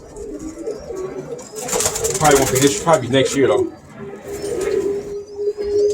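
Birmingham Roller pigeons coo in a loft, soft low rolling calls close by, heard under and between a man's speech.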